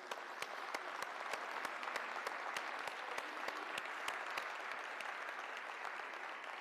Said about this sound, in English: let's give them a super big hand.